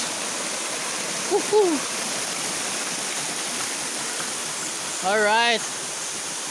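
Panindingan Falls pours with a constant broad rushing roar, close and steady throughout, with two short excited shouts from a person over it.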